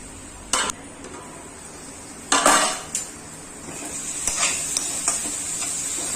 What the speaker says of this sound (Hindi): ये 3 से 4 मिनट तक हम भूनेंगे, ताकि हमारा लहसुन अदरक का पेस्ट अच्छे से भुजा जाए।